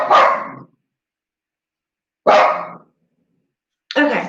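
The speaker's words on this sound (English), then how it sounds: "Bear with me for a second when the dog barks for a minute." A dog gives three loud, close barks spaced a couple of seconds apart, with silence between them, in an indoor setting.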